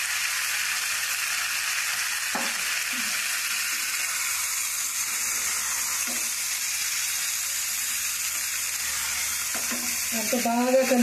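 Chicken with chilli powder and curry leaves frying in a pan, a loud, steady, close sizzle that runs throughout with a few light stirring clicks and a brief louder splutter near the end.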